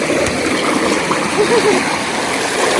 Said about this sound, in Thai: ล้างน้ำจ้ะ